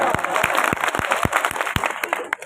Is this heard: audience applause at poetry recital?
yes